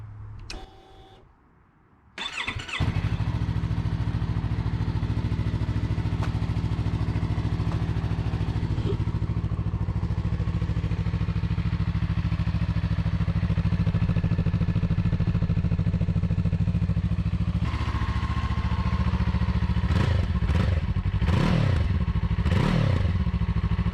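A Yamaha R3/R7 sport motorcycle cold-starts after a brief cranking burst, then settles into a steady, loud, close idle that runs for about twenty seconds, with a few throttle blips or clunks near the end.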